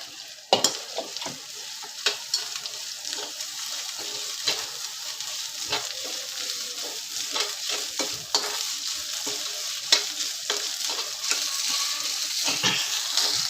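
Onion and curry leaves frying in ginger-garlic paste for stuffed brinjal, a continuous close sizzle broken by repeated spatula scrapes and clacks against the pan.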